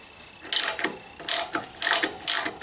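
A hand ratchet clicks in quick repeated strokes while loosening a 12mm bolt on the rear brake caliper of a Honda Africa Twin motorcycle, close and crisp with short pauses between strokes.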